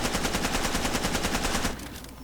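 Rapid sustained burst from a submachine gun (Uzi or MAC-10) in Far Cry 2, firing continuously as a full magazine empties, loud and close, then cutting off abruptly into a brief quiet tail.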